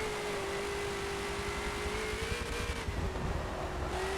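Race car engine at full throttle in Forza 7, a steady high-pitched whine holding a nearly constant note, rather faint and continuous over a low rumble.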